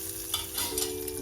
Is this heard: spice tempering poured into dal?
yes